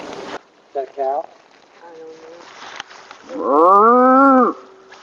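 Out in the woods, a low, drawn-out, cow-like call sounds several times, with short bursts followed by one long, loud moo-like bellow, and faint noise around it.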